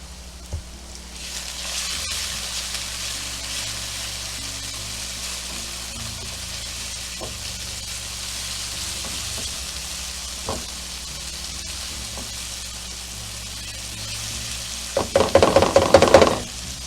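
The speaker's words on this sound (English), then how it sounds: "now we're going to add our garlic. Okay, garlic's in." Garlic frying in a pan for mushroom risotto, a steady, soft sizzle that runs almost the whole way, with a few light knocks and a louder burst of stirring and clattering near the end.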